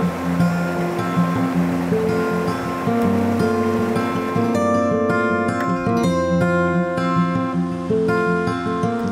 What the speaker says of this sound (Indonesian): Suara air yang deras terdengar nyaring